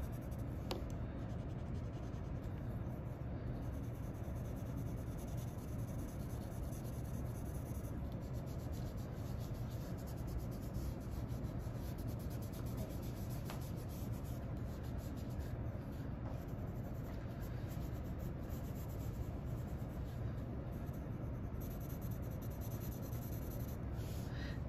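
Pencil shading on drawing paper during a still-life drawing, a steady, soft, continuous scratchy rubbing that holds at an even, quiet level throughout, with no voices.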